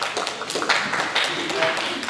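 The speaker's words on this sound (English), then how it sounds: "Give yourselves a round of applause." An outdoor crowd at a community street festival claps steadily, a dense wash of applause from many hands, with a voice talking over it.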